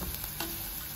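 Half a teaspoon of cumin seeds frying in hot oil with onion for a homemade brinjal dish, a steady close hiss of sizzling with light crackles and no voices.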